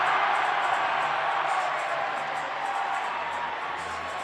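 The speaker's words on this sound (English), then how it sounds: "The crowd goes to their feet" A college ice hockey crowd at an NC State vs UNC game roars as a fight breaks out on the ice, producing a broad, sustained wash of cheering and shouting that holds steady throughout.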